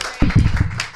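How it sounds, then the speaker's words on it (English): Audience clapping from a small group on a chat show, a short, close burst of claps over about a second with some talk mixed in. "I paid every single one of those claps."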